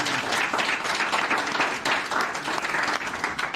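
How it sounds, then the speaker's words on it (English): At a Great Decisions 2024 talk on NATO's future, a seated audience applauds the event sponsors with a steady, moderately loud wash of clapping that lasts a few seconds. "So a big round of applause for all our sponsors"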